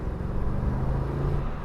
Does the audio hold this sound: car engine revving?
yes